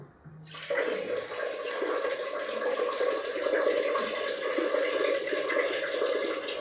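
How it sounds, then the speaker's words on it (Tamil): Red Kerala rathasali puttu rice being washed in water, a steady continuous splashing and running-water wash that starts after a brief quiet moment and holds at an even, close level throughout. "இது வந்து சிவப்பு புட்டு அரிசி, கேரளா அரிசி, ரத்தசாலி அரிசியை களைஞ்சு இப்போ இதை ஊற வச்சுருக்கோம்."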